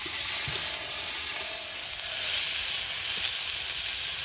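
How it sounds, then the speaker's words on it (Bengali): Yardlong beans hit hot oil already crackling with panch phoron, slit green chillies and chopped onion, giving a steady close sizzle and frying hiss with faint stirring throughout. "তেলের মধ্যে দিয়ে দিচ্ছি পাঁচ ফোড়ন চেরা কাঁচা লঙ্কা পেঁয়াজ কুচি এবার বরবটিটা দিয়ে দেবো।"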